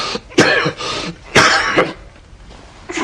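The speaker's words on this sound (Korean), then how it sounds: "누가 기침 소리를 내었는가 말이야!" Two sharp, loud coughs close by, each followed by a short rough throat-clearing rasp, then quiet.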